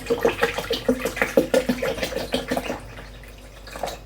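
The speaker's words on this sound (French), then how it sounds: "Et je vais verser de l'eau." Spring water is poured over ginger pieces in a container, a rapid glugging, bubbling pour with rhythmic gurgles that tapers off toward the end, close by and alone.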